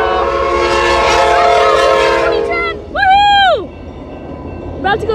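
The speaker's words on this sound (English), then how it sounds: "here comes Amtrak" An Amtrak California passenger train, number 2010, passes close by near Hamilton Avenue in Fresno, California. It sounds a loud, sustained multi-tone horn, then a short blast and a brief final toot over a low rumble.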